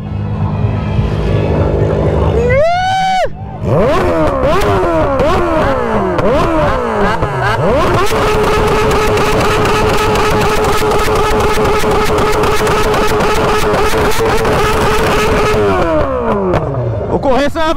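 A Honda Hornet motorcycle's exhaust revs loud and close, rising and falling in repeated sweeps before holding a steady high drone. Voices and crowd noise carry on underneath.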